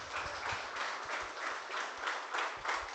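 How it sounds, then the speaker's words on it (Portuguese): Applause from a church congregation after a sermon reading, a steady wash of many hands clapping throughout at moderate level, with faint low thumps underneath. "Uma salva de palmas"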